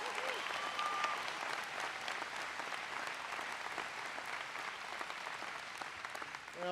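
Town hall crowd in Montana applauding former Interior Secretary and Colorado senator Ken Salazar, a sustained, even roar of clapping that fills the whole stretch without pause.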